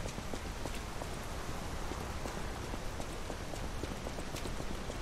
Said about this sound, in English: Rainy day.